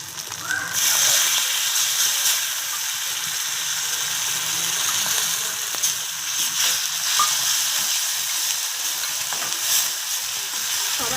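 Loud, continuous sizzling of tomato paste frying in a hot pan, with occasional scraping from a spoon as it is stirred.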